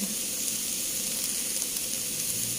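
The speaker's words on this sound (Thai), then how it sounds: "คั่วคั่วหอมกระเทียมก่อนนะคะเพื่อน" Shallots and garlic dry-roasting in a pan give a steady, even sizzling hiss with a faint crackle, continuous and close without any voices.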